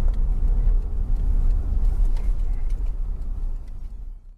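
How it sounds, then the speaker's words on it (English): An RV rolls out onto the sand at Pacific Beach, Washington, giving a continuous close low engine rumble and road noise that stays steady and eases off slightly at the end. "driving right out on the beach"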